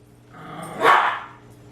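A dog barks once in a forest chase scene from the 1958 Japanese monster film Varan the Unbelievable, a short, fairly close yelping bark that rises out of a soft, steady background hum.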